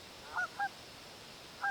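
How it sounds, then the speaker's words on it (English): Canada goose calls played back during a bird identification quiz: three short, clear honks, two close together and a third after a pause, fairly faint over a quiet background hiss. "That's a Canada goose."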